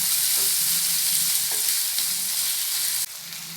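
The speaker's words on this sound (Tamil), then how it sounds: "வெங்காயம் ஓரளவுக்கு வதங்கி வரட்டும். இது கூடவே மீடியம் சைஸ் தக்காளி ஒன்று சேர்த்துக்கிறேன்." Onion and a medium-sized tomato sauté in a pan with a loud, constant sizzle. Periodic scraping stir strokes run throughout, close and uninterrupted by speech.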